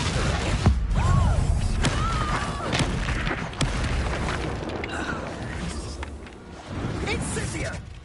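Explosive Confringo spell blasts in the Hogwarts Legacy video game: repeated booming bursts and crackling impacts amid busy game effects, with a voice shouting spell names over the loud, dense mix.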